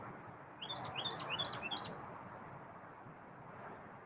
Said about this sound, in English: And Chirpy is chirping away.